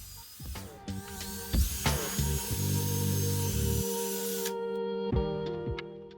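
A drill fitted with a buffing pad polishes the nitrocellulose spray-can finish on a DIY Telecaster body, giving a steady whirring rub with tonal hum that runs for several seconds, then gives way to quieter lingering tones.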